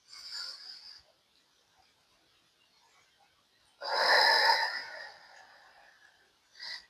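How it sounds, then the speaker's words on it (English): Long, slow exhales through the mouth during a gentle floor exercise: a breathy rush at the start, a louder, fuller breath out midway after a quiet pause, and a short final breath, all close and with no talking. "exhale through the mouth. Making the exhale longer than the inhale."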